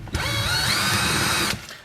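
A power tool loudly whirs for about a second and a half while taking apart the front fork of a Honda Gold Wing GL1100 motorcycle, close and alone, then spins down.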